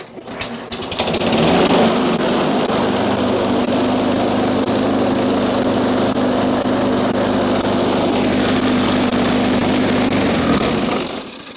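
A small gasoline engine, a lawn mower engine with a freshly cleaned carburetor, starts and runs steadily outdoors in snow, its loud, even drone holding close for about ten seconds before cutting off.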